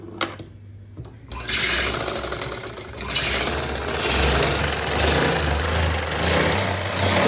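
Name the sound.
sewing machine stitching lace onto a lehenga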